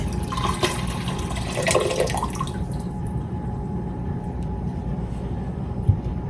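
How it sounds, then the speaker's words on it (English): Hot water is poured out of jars, a steady splashing gush that is loud at first and then tapers into a quieter trickle and background hiss. "as you're pouring this out, this water should be very hot"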